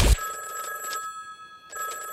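An electronic telephone bell rings in two bursts, a bright warbling trill, then a pause, then another trill, close and clear following a short thump at the start.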